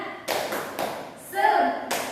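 A class does a rhythmic spirit clap, with a few sharp group claps and a voice chanting briefly between them.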